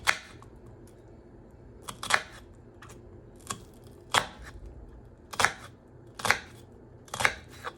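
A sharp kitchen knife making shallow cuts into a sweet or yellow onion on a board, a series of crisp, close chops arriving in irregular clusters with quiet pauses between them.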